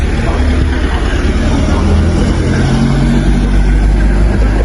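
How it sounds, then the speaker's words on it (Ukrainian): Motorcycles run on a race track in Slovakia, a loud, continuous engine drone with a low rumble and shifting revs, close by and steady throughout. "Чи катаються мотоцикли, пробують типу трасу"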